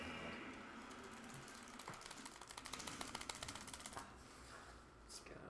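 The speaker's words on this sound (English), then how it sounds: "he was like making furious button clicking noises into the mic" Rapid, furious button clicking on a game controller held near the microphone, a dense rattling burst of clicks over steady background noise during a Super Smash Bros. Ultimate match.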